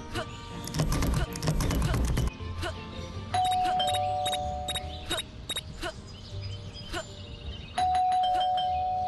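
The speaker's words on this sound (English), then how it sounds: "There goes that stupid bell again." A doorbell in the video game Scary Teacher 3D rings several times: bright, repeated electronic ding-dong chimes over game noise and brief clattering, with a longer ringing tone near the middle and again at the end.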